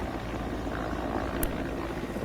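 A Kamov naval helicopter flies with the INS Vikrant carrier fleet at sea, its rotor and engine making a dense, steady whirring roar that stays constant and fairly close.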